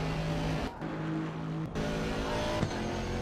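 A GT3 race car in the Assetto Corsa Competizione racing game drones at high revs, then the engine cuts out briefly on the overrun with sharp crackling exhaust pops before revving again, loud and close without talk.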